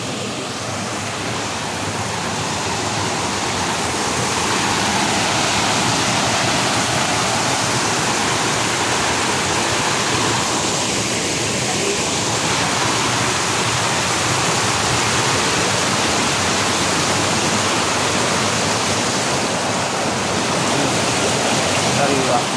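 Strong rushing water flowing out of an underwater tunnel in a forest, a loud, dense, continuous roar of churning water held close and steady throughout.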